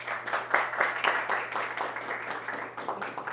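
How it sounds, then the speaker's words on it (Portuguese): A small audience at a panel on youth and environmental sustainability claps for a speaker, a fairly quiet, slightly uneven patter of hands over a low steady hum. "Palmas para o Matheus."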